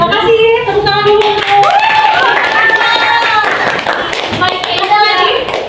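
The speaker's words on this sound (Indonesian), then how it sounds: "tepuk tangan dulu" Clapping from a classroom of students during a school lesson, a steady patter of many hands mixed with children's voices and chatter throughout.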